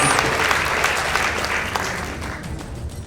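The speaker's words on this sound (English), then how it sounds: "Please give them a round of applause." Audience applauding two school debate teams, Our Lady of Mercy and Nembu Girls High School, at the close of a debate; dense, loud clapping fills the room steadily throughout.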